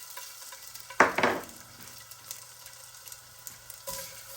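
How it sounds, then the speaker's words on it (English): Ginger hits a small amount of hot cooking oil with a sharp burst of sizzle and spatula stirring, then settles into a quieter crackle with a light clink near the end. "Then saute ginger."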